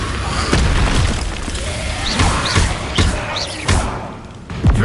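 Confringo blasting curse in a Harry Potter video game, a series of booming thuds and bursts spread across the clip, loud and close, with spoken voices mixed in among the impacts.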